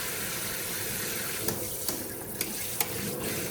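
A Lefton KS2207 kitchen sink's faucet sprayer runs water in a steady hissing spray, close by, with a few brief clatters and splashes as something is rinsed.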